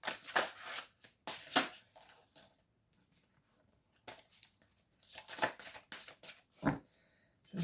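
Tarot cards being shuffled by hand in quick riffling bursts, several crisp papery flurries separated by pauses, close and fairly clear with no talking over them.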